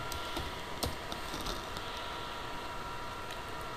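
Keys tapped on a computer keyboard while a command is entered in AutoCAD: a run of light, scattered clicks, faint and close, over a steady hiss, with no voices.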